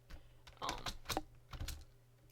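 Clicky keystrokes on a computer keyboard at an art-streaming desk, several quick taps in short bursts, close and fairly quiet, with no voices.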